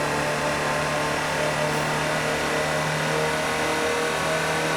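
A Land Rover Series Type 3 utility vehicle in Forza Horizon 4 drones with a steady, loud mid-pitched engine hum throughout, holding a constant tone without pauses.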